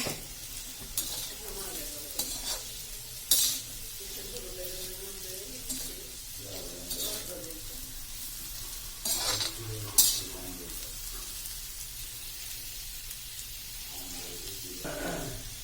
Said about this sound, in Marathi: आता आपण त्याच्यावर थोडं मीठ टाकून घेणार आहे चवीप्रमाणे मीठ टाकून घ्यायचं आहे छान कालवून घ्यायचंय